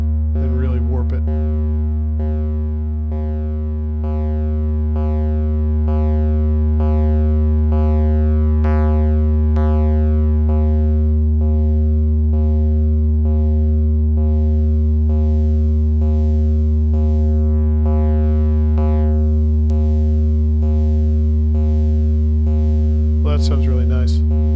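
A Pittsburgh Modular synthesizer patch pushed through a preamp boost for a warped tone: loud, sustained pure pitches under a stream of repeated plucked, chirping notes that grow brighter and denser toward the end.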